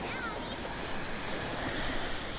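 Ocean waves washing onto the shore in Maui, Hawaii, heard as a continuous dense surf roar, close and steady for a few seconds.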